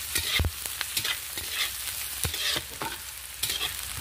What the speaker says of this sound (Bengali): দেখুন পেঁয়াজ লঙ্কাটা আমি ভালো করে ভেজে নিচ্ছি।